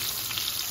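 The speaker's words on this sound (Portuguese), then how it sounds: "Aqui numa panela eu vou colocar a manteiga e o azeite. E vou colocar o dente de alho." Garlic clove frying in melted butter and olive oil in a pan, a steady close sizzle with soft crackle running throughout.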